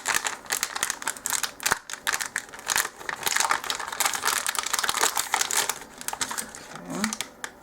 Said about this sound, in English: I'll open it up. Whoops. Actually slit the bag.